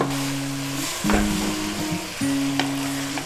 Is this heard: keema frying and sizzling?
yes